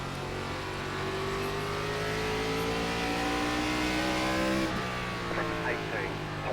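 An iRacing race car lapping New Smyrna, its engine revving steadily higher through a long pull before easing off, loud and close, with someone talking over the engine.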